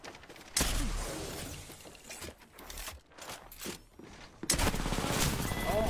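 Rapid gunfire bursts in a shooter video game, loud and clattering, broken by brief gaps and mechanical clicks, with a fresh heavy volley near the end.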